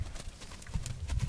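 Horse being ridden on a test ride, its hooves clip-clopping in a quick, steady rhythm of soft thuds, close by, with faint talk under them.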